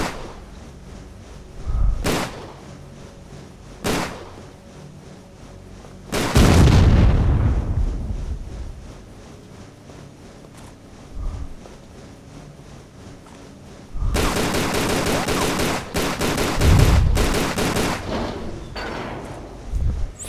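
Gunshots in Tomb Raider: The Angel of Darkness shatter glass bottles, heard as a few separate sharp booms early on, then a longer, louder cluster of shots and breaking glass near the end.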